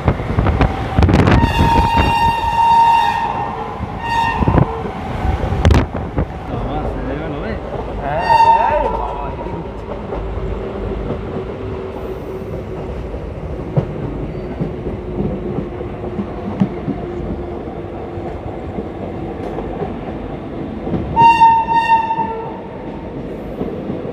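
A train rumbles past close by, sounding loud horn blasts several times over the continuous clatter of the wheels.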